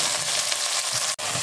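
Onion and dried red chillies frying in oil for crab curry, a close, steady sizzle that cuts off abruptly for a moment near the end.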